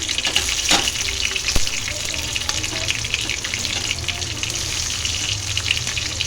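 Onions, tomatoes and green chillies sizzle and fry in a pan, a steady close crackle with a few sharp pops and stirring clatters, with no talk.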